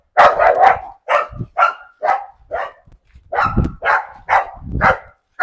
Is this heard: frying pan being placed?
no